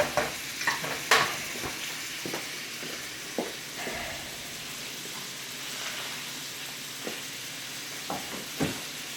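Meat frying in a pan on a home stove gives a steady, moderately quiet sizzle, broken by a few sharp clicks and clacks nearby.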